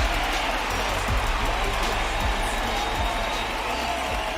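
A baseball stadium crowd makes a steady, dense roar with scattered cheering and applause, heard continuously under an announcer's talk.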